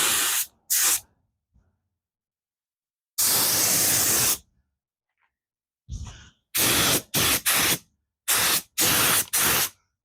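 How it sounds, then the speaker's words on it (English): A paint spray gun sprays flat black paint onto RV rims in short, loud bursts of airy hiss separated by silences, first singly, then in a quick series of repeated blasts. "This gun sounds like it's really pumping out a lot of air."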